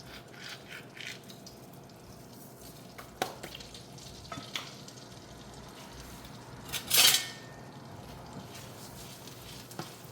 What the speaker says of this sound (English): Lightly crush it and add it in the pan.